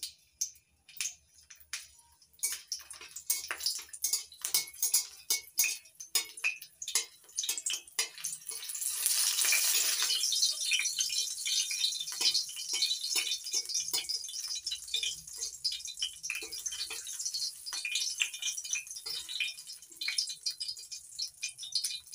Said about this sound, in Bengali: কয়েকটা কাঁচা লঙ্কা একটু ফাটিয়ে তেলে ভেজে নিচ্ছি।